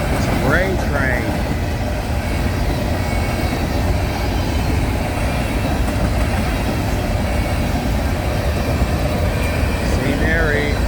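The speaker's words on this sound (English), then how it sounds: "It's a grain train." A grain train rolls past a rail crossing in Thomasboro, a continuous loud rumble of wagons and wheels with brief horn-like tones near the start and end, while someone talks over it.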